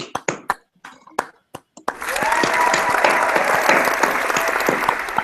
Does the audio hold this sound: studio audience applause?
yes